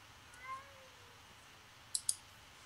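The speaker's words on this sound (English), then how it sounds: "Cat, why are you in our tower?" A cat meows faintly in the video game Minecraft, one soft, brief rising mew early on, followed later by two sharp clicks over a quiet background hiss.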